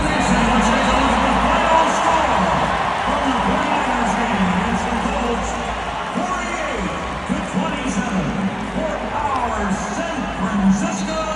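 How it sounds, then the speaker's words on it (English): A stadium crowd reacts at a sports event, a steady roar of cheering and booing with rising and falling swells, sounding slightly distant as if from a played recording, with a voice talking over parts of it. "you will see the crowd reaction"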